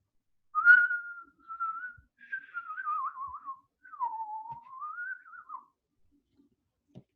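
A person whistling a short wandering melody of several sustained, sliding notes, clear and fairly close, alone against a quiet background.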